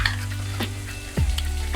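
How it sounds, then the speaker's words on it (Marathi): Ground spices (turmeric, red chilli powder and goda masala) fry in a pan for Kolhapuri-style shev bhaji, making a loud, close, continuous sizzle over a low hum, with a couple of brief stirring scrapes. "आता आपले मसाले व्यवस्थित फ्राय झालेले"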